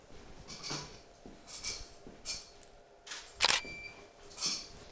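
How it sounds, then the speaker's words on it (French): A camera shutter fires in a photo studio, with about six separate crisp mechanical clicks spaced roughly a second apart, close and clear against a quiet background. "On va faire une photo et vous allez voir."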